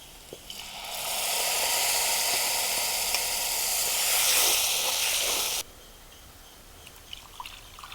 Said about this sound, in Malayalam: നമുക്ക് അരപ്പ് ഈ കടുക് വറുത്തതിലേക്ക് ഒഴിച്ചു കൊടുക്കാം.